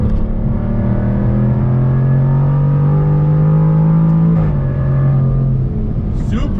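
A 2021 Jaguar F-Type R accelerates on throttle from a slow roll, its engine note climbing steadily, loud and close from inside the cabin, with a brief shift near the end.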